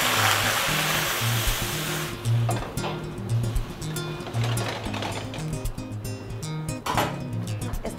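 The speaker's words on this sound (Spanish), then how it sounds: "nada más ponemos un poquito de agua" Water poured into a pan of butter infused with sage in a restaurant kitchen: a loud, steady hiss for the first two seconds, then a softer bubbling simmer over low kitchen hum and clatter.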